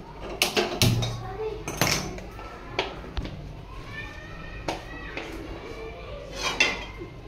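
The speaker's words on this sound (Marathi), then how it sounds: "तेवढी म्हणजे आपण कढई गरम करायला ठेवतात" A metal wok is set down on a home kitchen stove to heat oil for frying fish, giving sharp clanks and scraping clatter at irregular intervals amid other nearby kitchen noises.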